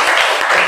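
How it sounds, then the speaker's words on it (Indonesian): An audience at a small business workshop claps in a brief, dense burst of applause from nearby. "Silakan Bu kembali tepuk tangan buat Bu siapa?"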